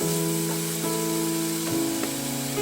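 Coconut fried rice sizzles steadily in a hot pan, a close, continuous frying hiss with a faint hum and occasional soft stirring knocks, no talking.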